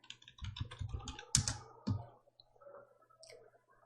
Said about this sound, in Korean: 글꼴을 굴림을 쓰고 엔터 누르십니다